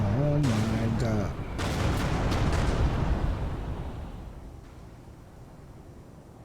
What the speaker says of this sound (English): That was explosion.